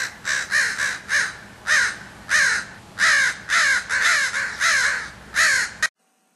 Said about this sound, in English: Do you want to see a murder of crows?